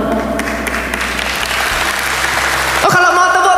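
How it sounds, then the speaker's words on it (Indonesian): A church congregation applauds loudly and continuously during a sermon, a dense wash of clapping that swells near the end. "yang di atas boleh tepuk tangannya yang paling meriah buat Yesus Tuhan kita"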